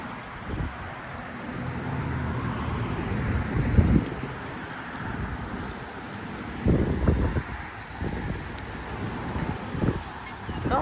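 Steady outdoor wind rushes across a garden with rows of flowering garlic, blowing in gusts and rumbling against the microphone, rising in stronger bursts now and then.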